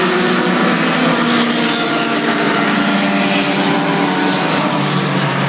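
A Lotus 22 Formula Junior race car at a vintage grand prix, a loud steady engine roar that holds close and constant throughout, with no talk.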